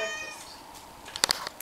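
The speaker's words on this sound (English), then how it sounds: "I'm getting serenaded with the sweet sounds of jazzy cats" Cats meowing nearby, a drawn-out meow followed by a quick burst of short, sharp meows near the end, fairly clear over a quiet background.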